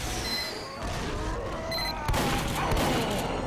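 Gunfire in the shooter game Team Fortress 2, a dense and continuous barrage of shots and impacts that stays loud throughout and swells near the end, with no speech over it.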